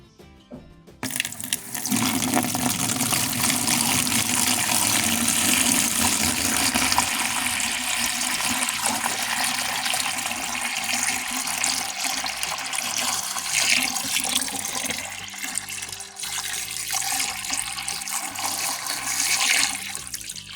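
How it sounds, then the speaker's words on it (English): Water pours steadily and loudly into a garden container in a Cape Town vegetable garden, a close continuous splashing gush lasting most of the clip and easing slightly toward the end, with no talking. "So yeah, I'm gonna add the water now."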